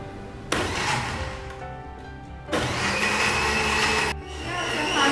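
Pandan leaves whirring in an electric blender with water for a pandan chiffon cake, a loud motor drone that starts abruptly, dips briefly, then surges again in steady bursts, close and alone.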